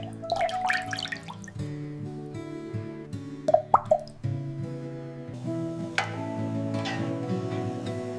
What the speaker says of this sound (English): Gently adding 6 fresh eggs.